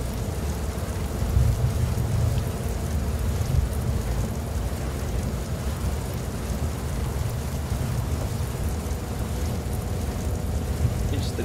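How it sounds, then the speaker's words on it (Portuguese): Heavy rain hisses steadily in a driving simulator game, a dense continuous wash with low rumbling thunder rolling underneath throughout, no voices. "E a chuva não cessa"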